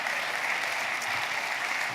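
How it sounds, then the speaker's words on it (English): A short burst of audience applause at an introductory welcome event, dense steady clapping from a crowd throughout, with no voices over it. "That gets applause."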